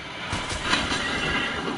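A horse whinnies in the video game Red Dead Redemption 2: a loud, drawn-out neigh over a steady background rumble, with no talking.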